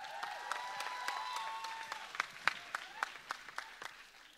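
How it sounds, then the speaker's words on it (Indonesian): An audience at a campus TV broadcast event applauds the crew, the scattered claps fairly quiet and distinct at first, then thickening, with faint voices mixed in beneath. "Tepuk tangan dulu dong."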